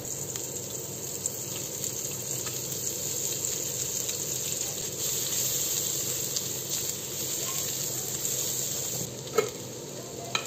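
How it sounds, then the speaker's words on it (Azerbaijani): Garlic frying in oil in a pan gives a steady, close sizzle that stays fairly even, with a couple of brief sharper spits near the end and no talking. "Sarımsaq qovuram. Biraz yağ əlavə edeyim."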